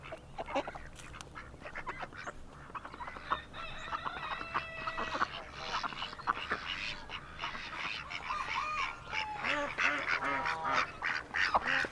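Ducks on a farm on a winter day, a busy chorus of quacking mixed with clucking and crowing poultry, overlapping calls near and far with no clear rhythm, with no speech.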